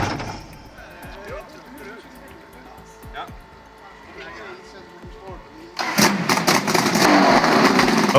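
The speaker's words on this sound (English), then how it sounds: "let's talk about this two-stroke V8 Rudezon build" A homemade two-stroke V8 engine from a workshop build runs under a voice for most of the stretch, then swells into a loud, dense roar over the final two seconds.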